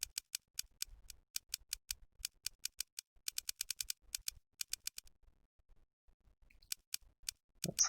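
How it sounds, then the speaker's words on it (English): A rapid run of sharp, crisp key clicks from a typing sound effect in the Steins;Gate visual novel game, arriving in irregular bursts with short pauses and no talk. "That's a lot of typing."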